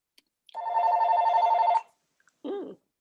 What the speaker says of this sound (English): Somebody's phone rang.